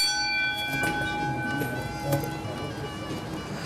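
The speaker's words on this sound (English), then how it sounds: "the bell is a signal that the chef or anybody who is in the kitchen knows that somebody newcomer arrived" A restaurant bell in Isfahan, Iran, rings to announce a new guest, with a sustained metallic tone, its steady harmonics lingering over a busy room with voices and clatter in the background.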